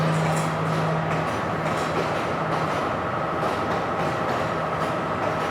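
A train rolls into Colombo railway station in Sri Lanka, a steady loud rumble of wheels on rails with faint clicking joints and a brief high squeal early on.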